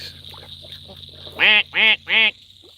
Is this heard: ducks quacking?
yes